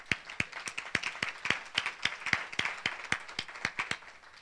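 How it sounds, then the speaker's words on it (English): Sparse audience applause at an airport conference panel session, a handful of distinct, evenly spaced claps ringing out alone with no talk over them. "So a big round of applause for them."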